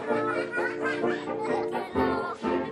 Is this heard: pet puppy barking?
no